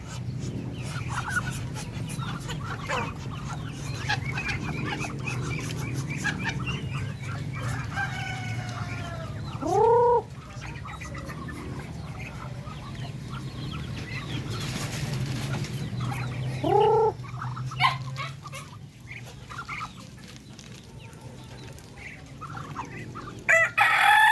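Native chickens and ducks kept as livestock cluck and murmur steadily nearby, broken by two loud rooster crows around the middle, with a low background hum throughout.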